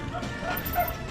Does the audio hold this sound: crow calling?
no